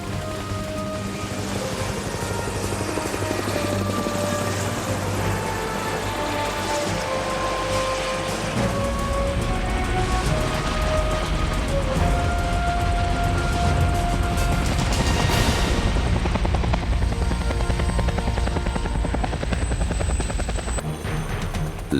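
A helicopter flies steadily with a continuous loud rotor and turbine drone, its whirring tones shifting in pitch as it passes, with no voices present.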